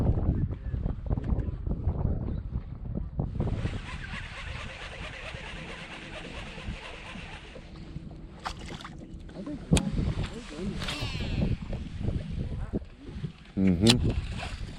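Warm wind gusting across Potholes Reservoir during a windstorm while bass fishing, a steady low rumble and buffeting on the microphone, with a voice speaking over it and a few knocks and clatters near the end.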